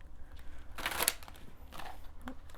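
Oracle cards shuffled by hand during a tarot-style love reading, a quick riffle burst in the middle followed by softer shuffling ticks, close and fairly quiet with no speech.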